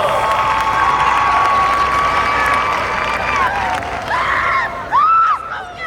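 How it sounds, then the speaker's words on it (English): A crowd at an Oxford High School football gathering cheers and applauds a senior football player, with loud whoops and whistles over a dense wash of clapping and voices. "Give him a big round of applause"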